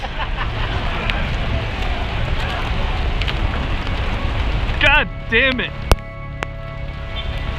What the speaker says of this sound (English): Dude, it's fucking hailing.